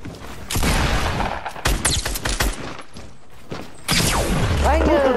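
Loud bursts of rapid gunfire crackle in clusters, with a pause in the middle before another heavy volley and a rumbling boom.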